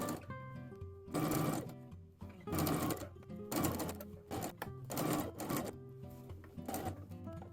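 A sewing machine stitches around a pocket bag seam in bursts of rapid, steady mechanical chatter. The bursts are separated by short pauses where the fabric is pivoted, and the machine sounds close and clear.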